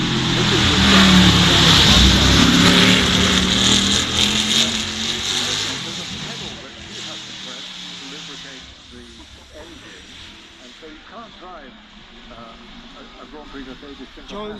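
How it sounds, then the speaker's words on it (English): A 1914 Grand Prix Mercedes racing car, a French Grand Prix winner, roars past at a hillclimb festival, loud and near with a rasping engine note that fades into the distance while a commentator talks over it. "the fabulous 1914 Grand Prix Mercedes, the cars that swept the board at the French Grand Prix that year"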